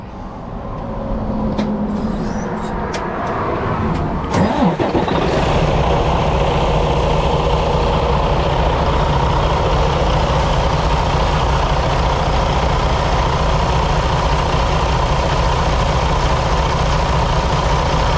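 Diesel engine of a Freightliner truck with a check engine light and shutdown fault cranks a few times, catches and starts, then settles into a loud, steady, low rumbling idle close by.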